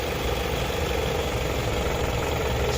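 A Toyota Camry engine with a charging system malfunction idles steadily, a constant low rumble with a faint rattling vibration and no break in level throughout.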